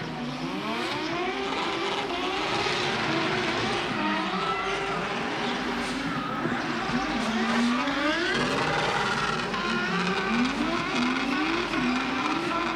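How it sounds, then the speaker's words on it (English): Drift cars pulling victory skids at Trust Power Stadium during a D1NZ Pro Sport drift round, engines screaming with wavering revs and continuous tire squeal, loud and sustained throughout. "Victory skids for these boys here at Trust Power Stadium."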